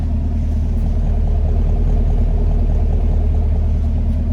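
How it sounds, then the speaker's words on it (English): A deep, continuous exhaust rumble from an idling 2019 Chevrolet Camaro 2SS coupe, loud and close, holding steady throughout. "Nice deep rumble to the exhaust."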